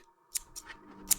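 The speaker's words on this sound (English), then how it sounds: "we obviously cut the hair" Scissors cutting hair in the Chinese horror video game Firework: two or three crisp, close metallic snips in a quiet room, with faint background tones.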